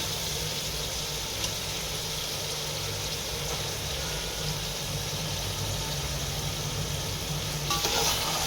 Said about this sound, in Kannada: ಮಟನ್ ಹಾಕೋತಾ ಇದ್ದಾರೆ